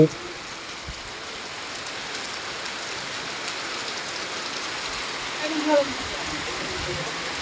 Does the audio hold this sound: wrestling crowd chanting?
no